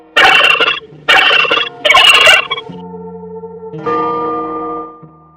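A domestic turkey gobbles in three quick loud bursts, followed by a softer, lower drawn-out warble that fades, close up with no one speaking.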